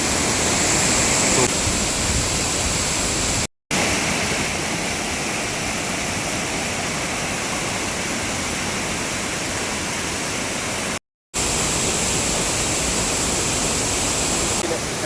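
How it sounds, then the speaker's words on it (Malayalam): A loud, constant roar of Chillithodu waterfall in Adimali, Idukki, crashing and splashing close by, broken by two brief dropouts. "നല്ല മഴ പോലെ നമ്മുടെ മേത്തേക്ക് വെള്ളം ചാടുന്നുണ്ട് കേട്ടോ"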